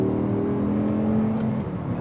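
Audi R8 V10 with R-tronic gearbox accelerating hard: a steady, loud engine drone with a smoothly rising tone and no break for a gear change, heard from inside the car with no talking.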